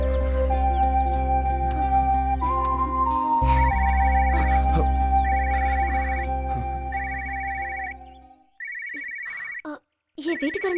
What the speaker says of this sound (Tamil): என் வீட்டுக்காரன் தான் ஃபோன் பண்றா.